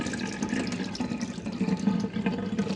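Tap water pours steadily into a pot of washed rice being readied for kimbap, a close, continuous splashing fill with no talking.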